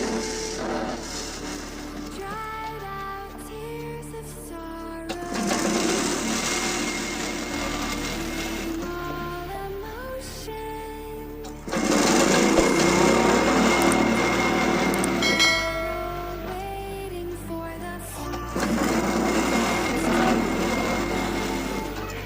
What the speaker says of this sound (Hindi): इस तरीके से पूरे में सिलाई लगा के दिखाते हैं।